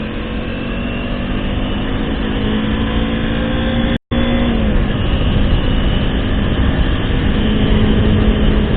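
A 2018 Kawasaki All New Ninja motorcycle rolls along and slows with no engine braking, giving a loud, steady engine and road roar close by, cut by a brief dropout midway before it carries on unchanged.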